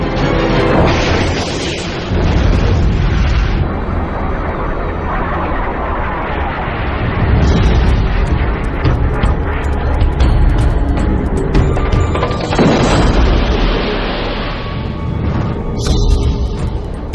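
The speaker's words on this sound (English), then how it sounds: "When the second missile flew up the tailpipe and it exploded" Sidewinder missile exploding in a MiG's tailpipe during an air battle: a loud, sustained roar of blasts and crashes, dense and continuous with repeated booming surges and no clear pauses.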